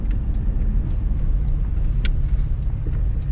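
Car cruising on the I-15 freeway in Las Vegas, a steady loud rush of road and tire noise with a constant engine hum, heard from inside the vehicle without a break.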